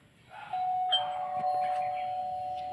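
A doorbell in the Roblox game Brookhaven rings with a clear, sustained electronic chime that holds steady after a quick onset, with no talking over it.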